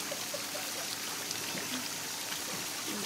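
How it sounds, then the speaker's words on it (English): A garden sprinkler sprays water on a hot summer day, making a faint, steady patter and trickle with soft droplet ticks throughout. "Got a nice sprinkler."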